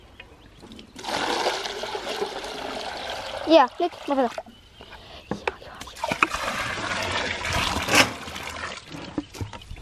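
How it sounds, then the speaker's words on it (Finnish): Water pours out of a bucket at a lakeside cabin, a close splashing trickle with bursts of louder gushing, while people talk over it. "Kaadetaan tästä ämpäristä sit sulle sitä."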